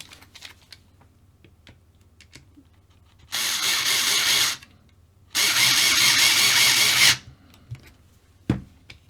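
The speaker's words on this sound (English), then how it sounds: "and then we just need to screw that down" A screw is driven down into a Tamiya TT-02 radio-controlled car chassis with a power driver, heard as two sustained whirring bursts of a few seconds each, close and loud, separated by a short pause and followed by a brief knock.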